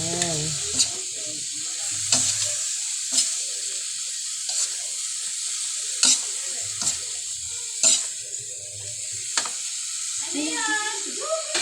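Chopped onions sizzle in a hot pan for a tofu dish, with a constant frying hiss and repeated clinks and scrapes of a spoon stirring at uneven intervals. A voice speaks briefly near the end.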